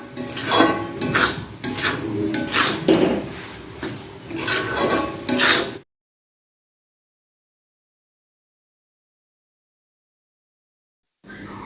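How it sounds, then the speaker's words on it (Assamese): Grated coconut and jaggery are stirred in a wok for coconut laddu, giving steady scraping and clattering for about six seconds before the sound cuts to silence, with a brief return at the very end. "নাৰিকলখিনি দি ভালদৰে লৰাই দিব।"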